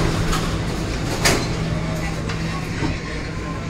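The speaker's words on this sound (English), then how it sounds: "Doors are closing." An SMRT R151 metro train's doors close at Outram Park station in Singapore: a few soft thuds and clicks over the train's steady cabin hum.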